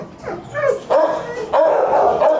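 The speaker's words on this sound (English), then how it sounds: "This is our longest stay dog, Phoebus" Dog barking inside an animal shelter, a few loud close yips and barks with whimpering tones spread over a couple of seconds, no talk.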